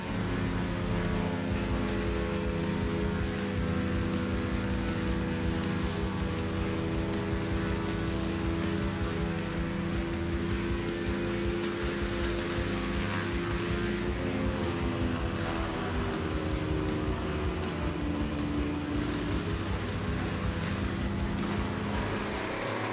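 Morbark 5048B whole tree chipper with an 800-horsepower CAT C27 engine and a 50-inch chipping drum, a loud sustained engine drone with slowly rising and falling harmonic pitch, steady throughout without talk.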